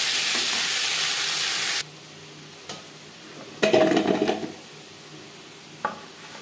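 Tomato and chopped onion going into oil with fried bay leaf and five-spice for a Bengali fish curry: a loud hiss that cuts off abruptly, then quieter sizzling with a few stirring knocks and scrapes.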